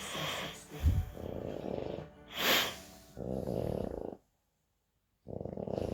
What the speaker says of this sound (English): snoring constantly.